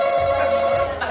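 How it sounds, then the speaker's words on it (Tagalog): A telephone rings in place of a game show buzzer during a family feud style quiz round, a steady electronic ringing tone that is loud and close, held continuously for about a second with no talk over it. "Tapos telepono pala ito."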